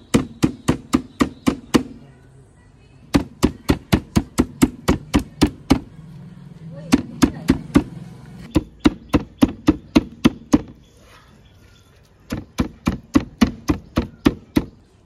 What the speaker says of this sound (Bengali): এখন আমি এগুলোকে একটু ছেঁচে নেব।